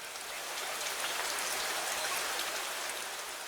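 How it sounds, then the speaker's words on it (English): Steady rain falls continuously, a soft, even hiss of drops pattering on surfaces with no voices or other sounds. "just rain."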